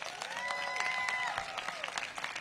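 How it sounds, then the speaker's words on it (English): A crowd at a school playground ribbon-cutting applauds the teachers, sustained clapping outdoors with children's high voices and chatter mixed in, moderately loud and continuous. "Let's give your teachers a big round of applause"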